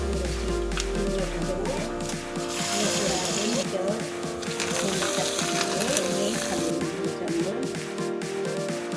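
Mustard seeds and cumin crackle and sizzle in hot oil for a potato snack, a steady close hiss that swells in the middle, with music-like tones running underneath throughout.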